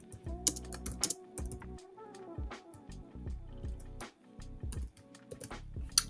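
Quick, uneven keystrokes on a computer keyboard, tapped close and fairly quietly in short bursts with brief pauses, as code is typed.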